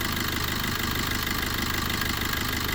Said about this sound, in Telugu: మీరు ఇంజన్ చూడొచ్చండి, ఒకసారి బీటింగ్ వినండి.